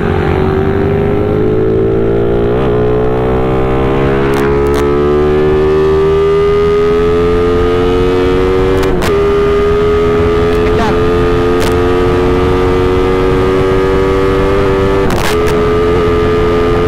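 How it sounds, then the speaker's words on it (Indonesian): A Yamaha MX King 175cc motorcycle engine running loud and close, its tone sagging as the throttle closes and then climbing again as it reopens, with sharp clicks or pops breaking through the drone. "gua tutup gas nih, terus dibuka lagi, dia boyot tuh kayak gini"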